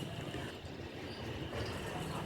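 Inside a passenger train running past Dakshineswar near Kolkata, a steady low rumble and rattle of the carriage on the rails fills the space, continuous and fairly loud with no clear speech.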